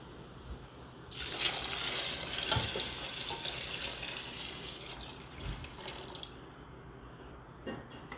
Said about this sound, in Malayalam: അപ്പം നമുക്ക് എടുത്തു വെച്ചിരിക്കുന്ന ചൂടുവെള്ളം ഒഴിച്ചു കൊടുക്കാം.